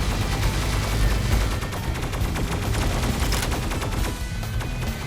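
Rapid close-quarters weapon fire in a video game, a dense, loud burst of repeated shots rattling continuously throughout with booming low end.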